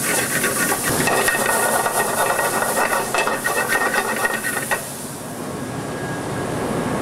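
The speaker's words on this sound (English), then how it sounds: "Okay, so we've just got a sear going there." Sun-dried tomatoes, pepper and lima beans searing in a hot pan, giving a loud, steady sizzling hiss with crackling pops that eases off slightly toward the end.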